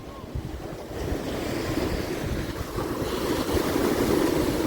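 Strong wind buffets the microphone at Girgaon Chowpatty beach, a steady, loud roar blended with surf that builds slightly over the few seconds, with no talk.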